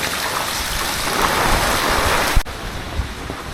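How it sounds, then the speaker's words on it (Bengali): Heavy rain pours down in a storm over a flooded bazaar, a loud dense hiss of downpour with a sharp knock partway through and the rain continuing slightly quieter after. "কি ঝড় বৃষ্টিটাই হইতেছে"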